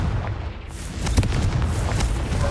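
A Confringo spell explodes in the video game Hogwarts Legacy as a loud, rumbling blast that swells and lingers with a booming, crackling tail.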